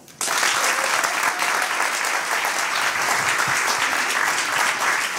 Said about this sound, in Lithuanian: Kviečiu visus pasitikti audringais plojimais